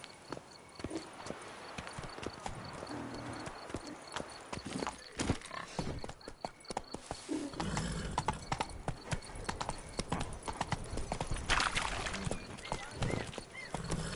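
Horse hooves clip-clopping at a quick, steady gait across the ground in The Witcher 3, with occasional snorts and a whinny over ambient game sound.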